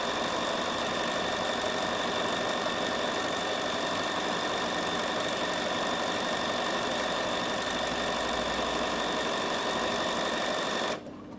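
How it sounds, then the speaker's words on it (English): A Bernina 7 Series sewing machine sewing a buttonhole automatically, a loud, steady, continuous motor hum and needle chatter that runs without a break and cuts off at the very end. "hold this down till your machine starts sewing, and it will sew your whole buttonhole"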